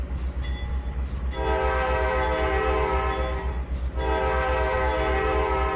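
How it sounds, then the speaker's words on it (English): A steam train in the Trainz 2019 railway game sounds two long, steady blasts of its horn and whistle, separated by a short pause, over a continuous low rumble of the locomotive. "Couple of warning, all aboard things. Horn, whistle."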